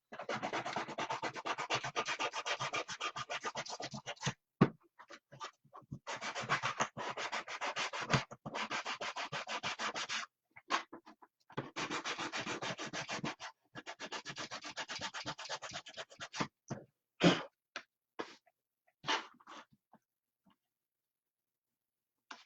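A prop is hand-sanded in long bursts of close, raspy rubbing strokes, broken by short pauses and a few isolated scrapes near the end before the sound stops.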